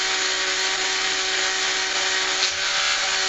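A Dremel rotary tool polishes a 1911 pistol part, giving a steady, continuous high whine with faint buzzing overtones. It holds an even, fairly loud level for the whole stretch with no pauses and no talking.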